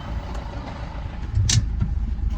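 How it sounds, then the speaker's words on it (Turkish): A car heard from inside as the driver pulls over to the roadside, a low steady engine hum and road rumble with a brief louder swell partway through. "Kaptan yanaştırıyor ya arabayı."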